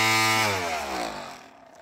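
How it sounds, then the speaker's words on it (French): A standard brush cutter engine, heard close, starts loud with a buzzing whine, then drops in pitch as it winds down and fades toward idle over about two seconds. "c'est le bruit d'une débroussailleuse normale."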